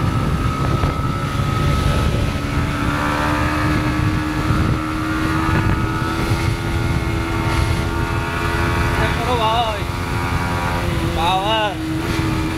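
A Yamaha MT15 motorcycle engine drones steadily while riding on a road from Vrindavan toward Agra, with constant wind rush and a faint rising whine near the end as someone talks over it.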